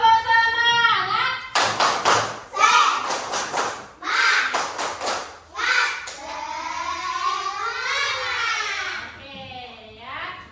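Classroom ice-breaker clapping game, tepuk semangat: children chant in unison between quick bursts of rhythmic clapping, loud and close, with clap patterns alternating with the chanted lines.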